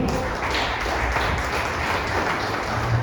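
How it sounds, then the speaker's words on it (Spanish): A church congregation applauds steadily for a few seconds during a sermon, dense clapping filling the room with a continuous crackling wash. "Denme un aplauso al Señor."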